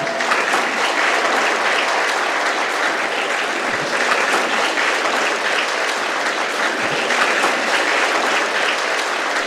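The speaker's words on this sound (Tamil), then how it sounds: "மீண்டும் ஒரு முறை கைத்தட்டலாம்" An audience applauds steadily and loudly at an honouring ceremony for a daughter's educational achievement, a thick, unbroken wash of clapping lasting the full ten seconds.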